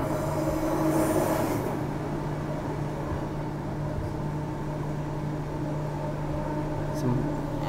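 A Perth Midland line train runs with a steady low rumble and drone, wheels and motor humming throughout at close range.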